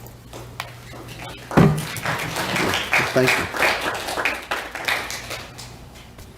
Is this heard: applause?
yes